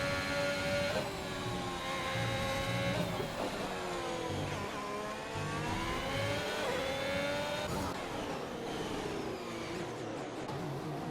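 Formula 1 race cars in the F1 2021 video game at Suzuka's Japanese Grand Prix, engines whining loud and close as they rev and shift through gears, several cars overlapping in a continuous high-pitched drone.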